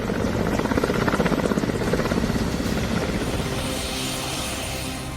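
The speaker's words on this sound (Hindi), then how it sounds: "देश के 18 अलग अलग शहरों में एयरफोर्स के ये हेलीकॉप्टर नीट के पेपर लेकर पहुंचे हैं।" Air Force helicopters come in to land, their rotors beating in a loud, rapid chop that gradually smooths into a steady engine roar as they settle.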